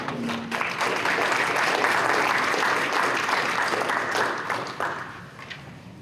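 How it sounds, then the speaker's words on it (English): A crowd at a county State of the County gathering applauds, a steady, fairly close wash of clapping that holds for several seconds before tapering off. "Please give yourself a round of applause."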